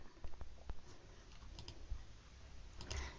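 Fast typing on a computer keyboard while entering a Twitter search, a steady run of light, close key clicks with a few louder taps and no talking.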